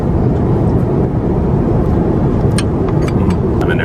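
Steady broadband cabin roar aboard a China Southern airliner in flight, a constant engine and air rumble filling the whole stretch, with faint clinks of tableware toward the end and no talking.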